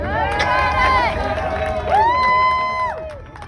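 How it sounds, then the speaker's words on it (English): Crowd cheering and whooping at a May Day rally in Harlem, a dense burst of many voices rising in two swells, loud and close. "Cheer me on."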